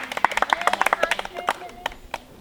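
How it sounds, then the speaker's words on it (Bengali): A group claps hands during a party challenge game, giving sharp, uneven bursts of claps close by with voices mixed in. "তো হাততালি"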